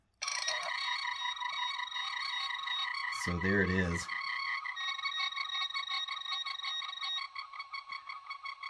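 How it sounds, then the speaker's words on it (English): A Roddenberry Star Trek Tricorder Mark IX toy opens with a brief ratcheting click, then sends out loud warbling, chirping electronic effects that run continuously, with a short pulsing burst in the middle and a voice speaking briefly. "As soon as you open it up, you have the ratchet sound, the lights, and the sound effects."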